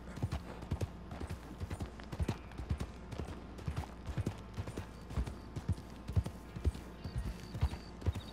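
Hoofbeats of a horse galloping in Red Dead Redemption 2, a steady rapid clip-clop rhythm running throughout against game ambience, with no talking over it.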